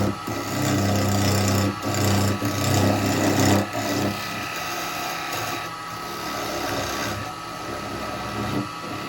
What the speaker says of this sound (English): My square chisel just to take that away.